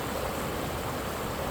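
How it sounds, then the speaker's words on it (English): A stream of water running among trees, heard as a steady broadband rush that stays even and close throughout, with no voices. "Like this water"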